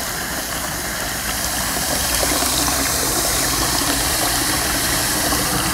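Water under pressure blasting through biochar in a bucket to wash out fulvic and humic acids for a five-gallon inoculation solution, a loud, steady broadband hiss and rush with a low motor-like rumble, continuous throughout.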